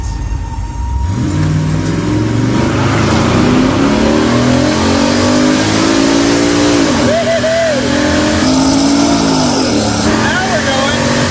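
A car with a 600-plus horsepower LS engine on stock suspension accelerates hard, loud engine revving up through gear changes with rising pitch, close and dominant throughout.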